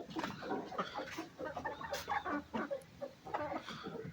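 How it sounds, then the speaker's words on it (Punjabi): A hen clucks repeatedly in short, choppy bursts near a backyard coop during rain, a busy rhythm of close clucks with a few sharper notes and no talking. "ਆ ਮੁਰਗੀ ਦੇਖੋ ਮਿੱਤਰੋ ਇੱਕ"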